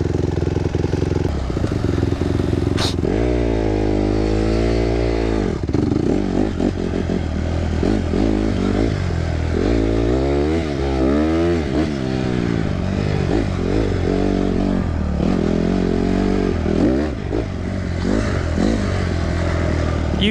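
A 2008 Honda CRF150R dirt bike engine roars continuously during a test ride, loud and close, with repeated revving that rises and falls in pitch.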